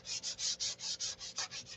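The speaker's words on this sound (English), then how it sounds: "I'm going to sit here for the rest of the week and sand this stuff out." Hand sanding of hangar rash damage, about ten rhythmic back-and-forth rasping strokes, close and fairly quiet, with no voices.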